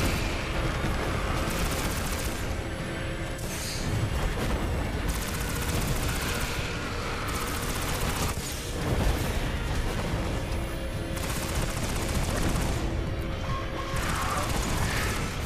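Auto rifle fire in the video game Destiny rattles in loud, dense, sustained bursts with brief gaps, continuous and close, with no one talking.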